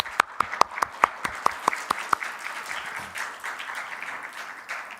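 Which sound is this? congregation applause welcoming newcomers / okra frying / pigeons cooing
congregation applause welcoming newcomers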